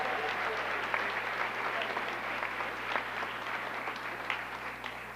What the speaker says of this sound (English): Round of applause for 35.